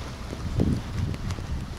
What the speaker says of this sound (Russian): Еще ветер такой противный.